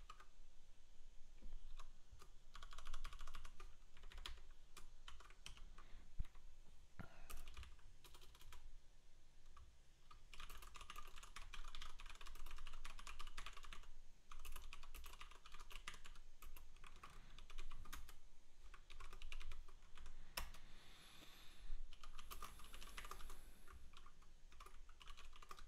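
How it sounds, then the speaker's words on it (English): Steady typing on a computer keyboard, a dense run of quick, close key clicks with brief pauses, continuing for about twenty-five seconds without speech. "And as I'm typing this out"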